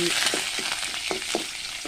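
Onions and curry leaves sauté in a hot pan for beetroot poriyal, a steady broadband sizzle broken by several short scraping stirs of the spatula, close and fairly loud.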